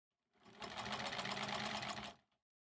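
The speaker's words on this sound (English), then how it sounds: "let's just start the day off with some strip sewing" A sewing machine stitches fabric strips for quilt blocks in one quick burst of about two seconds, its needle hammering in a fast, even rhythm, close and clear.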